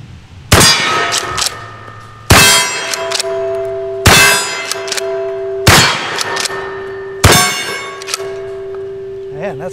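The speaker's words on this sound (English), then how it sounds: "I'll probably just shoot the gong." Factory-loaded wax slug shots strike a steel gong target outdoors, five loud sharp clangs spaced a couple of seconds apart, each ringing out with a metallic tone that fades before the next hit.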